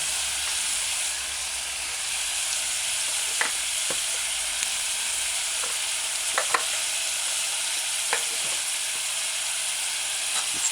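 Chopped onions and scallions sauté in a pan over a medium-low stove, giving a steady, even sizzle with a few faint clicks from the utensil scattered throughout.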